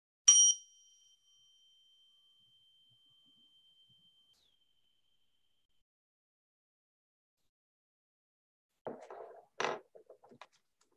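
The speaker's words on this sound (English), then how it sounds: "May the ringing of the bell bring us together into sacred space." A single bell is struck once at the opening, and its clear ring fades slowly into a long silence before a few soft rustles near the end.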